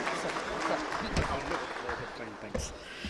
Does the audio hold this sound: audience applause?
yes